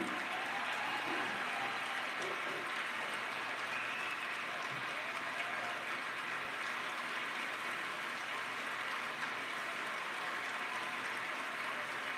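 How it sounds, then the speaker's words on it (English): Sustained audience applause at a company state-of-the-company address, a dense, steady wash of clapping that stays loud and unbroken throughout with no voices rising above it. "Please join me in applauding all their efforts and all their good work."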